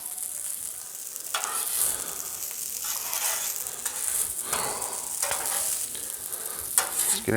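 Shrimp fried rice sizzles steadily on a Blackstone griddle, with scraping spatula strokes stirring through the hiss at regular intervals, close and fairly loud.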